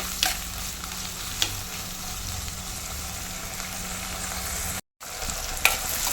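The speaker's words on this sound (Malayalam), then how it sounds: "എല്ലാം കൂടെ നല്ല ഒന്ന് മിക്സ് ചെയ്ത് കൊടുക്കാം നല്ല ഒന്ന് വാടി വരട്ടെ" Onion, tomato and green chillies frying in a pan for a Kerala fish curry, stirred with steady scraping over a continuous sizzle, with a few sharper clinks of the utensil against the pan and a brief gap near the end.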